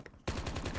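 A rapid burst of automatic gunfire in the Call of Duty video game starts abruptly after a brief quiet moment, loud, dense and continuous.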